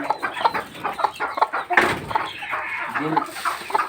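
Several chickens cluck and murmur close by in short bursts, with a person speaking intermittently over them.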